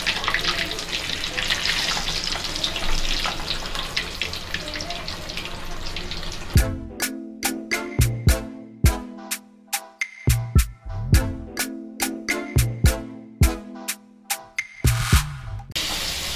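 Green chillies coated in besan batter sizzle steadily in hot oil at first; then the frying gives way to a series of sharp clattering knocks and scraping noises, close and fairly loud.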